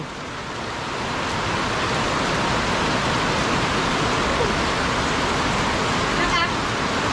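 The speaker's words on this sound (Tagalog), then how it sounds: "lakatak ng ulan sa Yero." Heavy rain pounding on a corrugated iron roof, a loud, unbroken roaring wash of noise that swells in the first second and holds steady throughout.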